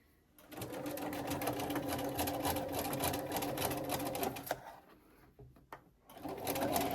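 A sewing machine runs a zigzag stitch across tee-shirt fabric, a fast steady mechanical rattle for several seconds that then slows and stops in short clicks, with a brief restart at the end.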